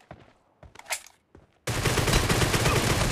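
Gunfire in the PUBG video game: a few scattered footsteps and small clicks, then a sudden dense burst of rapid automatic shots that continues loud and close to the end.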